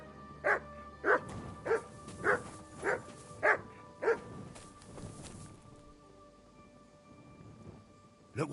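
The dog Mutt in Kingdom Come: Deliverance 2 barks seven times in a steady rhythm, loud and close, then goes quiet into faint ambience.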